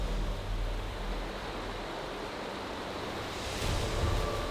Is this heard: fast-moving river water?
yes